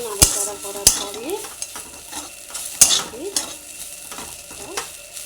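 A spoon stirs potato and ivy gourd frying with poppy seed in a pan, giving repeated sharp scrapes and clinks over a steady sizzle, close and fairly loud.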